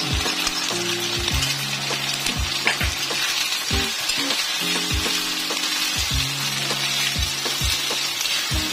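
Bagoong alamang (shrimp paste) stirred with about three tablespoons of sugar in a hot pan, giving a steady sizzle and fry. A utensil scrapes and knocks against the pan in a rhythm throughout.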